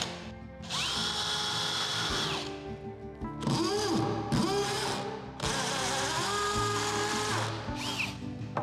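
A power drill fitted with a masonry bit bores a pilot hole, running in three long, loud bursts with short pauses between them, close up and with no talk.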